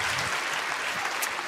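Steady, dense applause from a crowd at the Cologne carnival proclamation of the 2022 Dreigestirn, sustained at even loudness for the whole moment with no voices over it.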